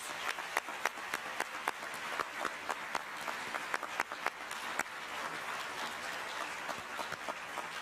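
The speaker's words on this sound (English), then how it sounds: "Let's give this amazing group of leaders another round of applause" Steady applause from an audience at a State Department trafficking report launch ceremony honoring leaders, a dense wash of clapping with a few sharper individual claps standing out, sustained throughout at moderate level.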